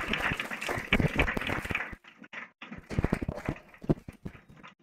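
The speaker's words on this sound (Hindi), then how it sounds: "हम सभी उनका ग्रैंड वेलकम जोरदार तालियों के साथ स्वागत करके करेंगे" An audience claps in loud, uneven bursts to welcome students at a CMA Foundation results celebration, with a short pause midway before the applause swells again.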